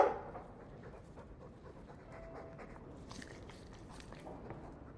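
A Mabari war dog in Dragon Age 2 pants in quick, soft, close breaths, with faint movement noises alongside.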